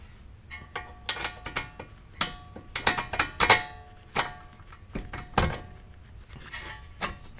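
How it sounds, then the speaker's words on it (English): Bolts being tightened with a ratchet during a lowering-spring install on a Mitsubishi Evo X, with short bursts of crisp clicking and a few metallic clunks, close and fairly quiet, no talking. "I'm gonna tighten everything back up top so this front one can be done"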